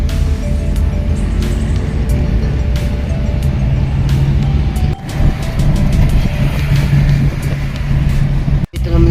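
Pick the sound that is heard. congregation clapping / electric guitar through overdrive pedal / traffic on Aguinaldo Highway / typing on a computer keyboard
traffic on Aguinaldo Highway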